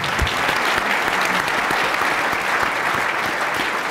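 Audience applause at an energy innovation luncheon, a steady dense wash of many hands clapping that fills the whole stretch at an even, fairly loud level with no talk over it.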